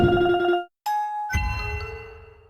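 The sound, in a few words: video game counter sound effect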